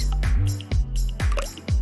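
The last few drops of a drink fall in quick, close, wet drips, about four or five in less than two seconds.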